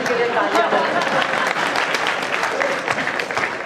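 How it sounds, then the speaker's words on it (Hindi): Audience clapping for the police at a comic poetry gathering, a loud, continuous crowd applause with voices mixed in beneath it throughout. "एक बार पुलिस के लिए तालियां।"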